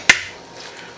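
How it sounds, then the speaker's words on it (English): An egg cracks against a bowl of cornbread pudding mix, one sharp, close click followed by faint soft trickling. "we'll put our 2 eggs"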